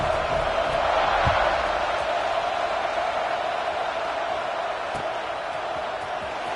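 A football stadium crowd cheers just before kickoff, a steady wall of roaring noise that holds at a constant level from start to finish.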